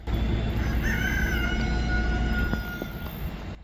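A rooster crows one long, drawn-out call at close range on a farm where a livestock trailer is being built, rising and then trailing off over a low steady rumble of background noise.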